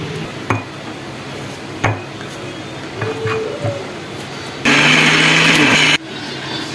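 Blender chopping four bread slices into crumbs, a loud steady whir for a little over a second after several sharp clatters and knocks from handling, close by.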